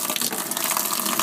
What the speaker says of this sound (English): I'm going to fill up my water boiler.